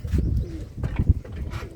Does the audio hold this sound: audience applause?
no